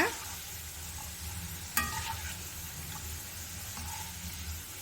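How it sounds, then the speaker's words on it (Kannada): Potato evening snacks deep frying in a pan of oil, a steady low bubbling hiss with a clatter of a slotted spoon near the two-second mark, moderately quiet and without voices. "ಸೆಕೆಂಡ್ ಬ್ಯಾಚು ಚೆನ್ನಾಗಿ ಫ್ರೈ ಆಗಿದೆ ಈಗ ಇದನ್ನು ನಾವು ಎಣ್ಣೆಯಿಂದ ತೆಗಿಯೋಣ"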